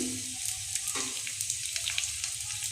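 Pieces of papad-wrapped paneer fry in a small amount of hot oil in a pan, giving a steady close crackling sizzle with scattered sharper pops and spatters.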